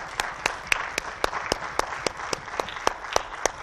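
Congregation applauding in a church service, thin scattered hand claps with a few loud sharp ones standing out over a soft background of clapping, no speech.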